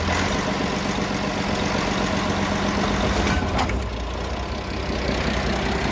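A Hokuriku locomotive engine roars in a loud, steady, heavy rumble while its wheels slip and the cab shakes hard, with a brief metallic rattle partway through.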